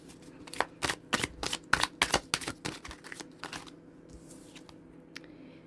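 Tarot cards shuffled and handled up close, a quick run of sharp riffling slaps and flicks that thins out into a few softer shuffles, with no talking.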